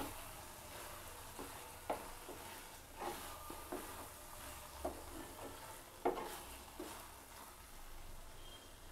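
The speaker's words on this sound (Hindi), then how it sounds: "हम इसमें ना जो ड्राई फ्रूट्स हमने फ्राई किया था उसको भी डाल देंगे और इसको मिक्स कर देंगे।" Carrot halwa with fried dry fruits stirred in a pan, a soft continuous scraping and gentle sizzle with several sharper clicks of the spoon against the metal, quiet and close, no talk.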